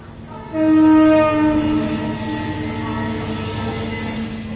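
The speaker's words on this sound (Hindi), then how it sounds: "यही ट्रेन जाती है लखनऊ, हफ्ते में एक बार।" A passenger train passing close by, a steady loud rumble of wheels on rails with a sustained horn blast near the start.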